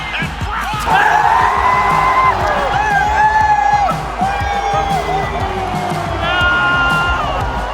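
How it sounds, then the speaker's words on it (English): A crowd cheers and whoops at a basketball game, loud and sustained, with shouting voices and sharp ball bounces beneath the roar. "With the crowd absolutely buzzing"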